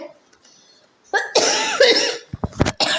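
A person with a cold coughs close by, first one hoarse, drawn-out cough, then several short, sharp coughs in quick succession, in an otherwise quiet room.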